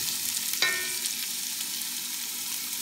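Onions tumble into a hot pan of frying ginger with a sudden bright crackle, then settle into an even, continuous sizzle.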